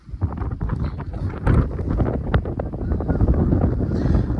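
Strong gusts buffet the microphone in a steady, roaring rumble of wind noise, loud and close throughout, on a Konkan ghat road.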